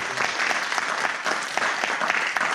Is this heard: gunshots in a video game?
no